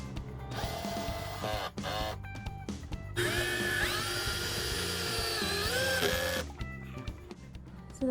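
A Milwaukee power drill runs in loud, close bursts while a desk is built, its motor whining and shifting pitch through a long sustained run in the middle, with short starts before and after.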